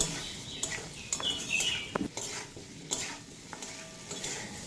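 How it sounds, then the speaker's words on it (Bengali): Potato and pumpkin frying in a pan with Kashmiri chili powder, a steady close sizzle broken by scraping stir strokes and clinks of a spatula, with no talk over it. "কাশ্মীরি লঙ্কার গুঁড়ো দিয়ে খুব ভালোভাবে ভেজে নেব যাতে আলু আর কুমড়ো প্রায় নাইনটি পারসেন্ট মতো সেদ্ধ হয়ে যায়"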